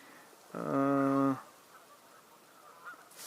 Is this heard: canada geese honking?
yes